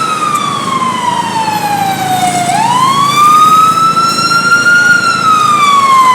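A loud, close ambulance siren wails continuously, its pitch sliding down and then rising again, with no talking.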